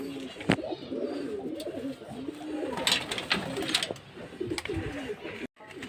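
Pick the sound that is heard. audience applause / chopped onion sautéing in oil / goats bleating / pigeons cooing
pigeons cooing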